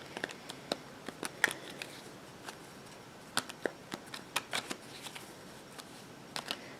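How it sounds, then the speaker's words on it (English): Tarot cards are shuffled by hand in quiet, irregular bursts of crisp riffling snaps and flicks, close to the microphone with near-silence between them. "I did a little bit of pre-shuffling, but let's do a little bit here."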